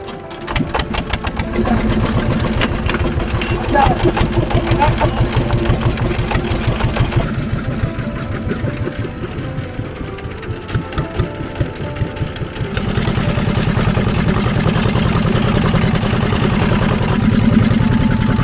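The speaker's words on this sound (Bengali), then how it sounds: "আমাদের নৌকা ইঞ্জিন চালিত নৌকা করেই আমরা চলে যাব চাচা নৌকাটি ছেড়ে দিবে" Engine-powered wooden country boat on a river near Teota char, Shibalaya, Manikganj, a loud close chugging motor with a rapid steady knock that shifts pitch and rises toward the end.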